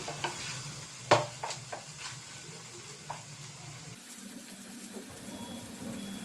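A vegetarian curry with mustard paste and ginger paste fries in a pan, giving a soft sizzle and several sharp scraping stirs early on. The sound is close and fairly quiet, with no talking.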